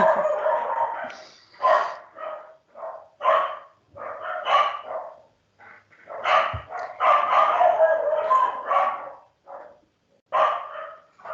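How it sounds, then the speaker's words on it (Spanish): Several dogs bark indoors, with repeated loud yapping bursts in irregular clusters and brief pauses, fairly close and continuing through the whole stretch. "otra vez mis perros están"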